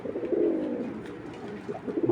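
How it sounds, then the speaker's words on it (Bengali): Indian chuital kaldom pigeons coo close by, with a low, throaty coo near the start and a softer one at the end over faint background noise. "আমি দুইটা কবুতরে দেখাই"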